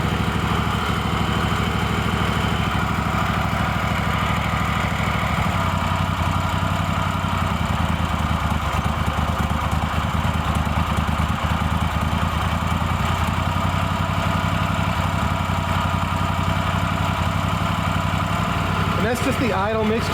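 A Kohler Command engine on a Craftsman GT5 mower idles steadily and loudly at close range, its even drone running unbroken throughout, with a brief clattering change at the very end.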